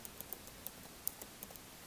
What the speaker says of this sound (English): then you just have to type in your email